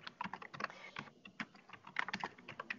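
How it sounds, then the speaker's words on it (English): Computer keyboard typing in the background of a video call during a virtual audit workshop: rapid, uneven clicking keystrokes, fairly faint and picked up through a remote participant's microphone. "we can hear some typing in the background"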